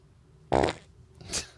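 One short, loud, buzzy fart close to the mic, followed a moment later by a quieter breathy trailing sound.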